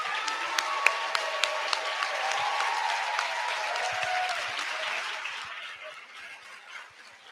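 An awards ceremony audience applauds volunteers in a steady round of clapping with a few sharp individual claps standing out, tapering off gradually toward the end.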